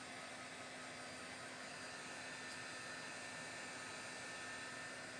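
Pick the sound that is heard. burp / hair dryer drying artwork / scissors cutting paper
hair dryer drying artwork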